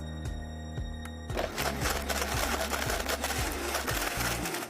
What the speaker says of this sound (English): And then we're ready to blend.